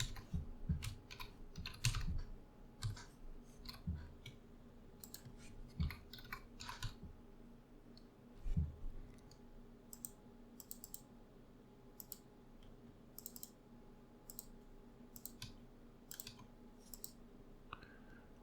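Someone types details into a web registration form on a computer keyboard, giving irregular bursts of quiet key taps with short pauses between them and a few louder clicks.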